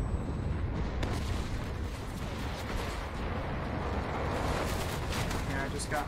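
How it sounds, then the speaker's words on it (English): Grenade blasts and gunfire in the WWII shooter Enlisted during a US infantry assault on Ver-Sur-Mer, a dense, continuous roar of booms and shots with broadband rumble throughout. "Grenade out."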